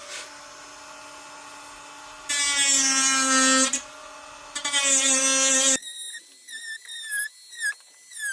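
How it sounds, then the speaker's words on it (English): A power drill cleans out the holes in a DIY steel motorcycle rack for a TW200, with loud whining bursts that rise and fall as the bit cuts, then shorter stop-start pulses near the end. "So I'm going to clean these holes out with this drill bit."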